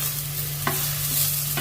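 Ginger garlic paste and roasted fenugreek sizzle steadily in a pan for a dhaba-style methi paneer veg biryani, with a couple of soft scraping strokes of a spoon stirring through the constant frying hiss.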